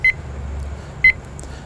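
Two short electronic beeps about a second apart come from a timer started for a pizza in an Uuni 3 oven, clear above a low background hum.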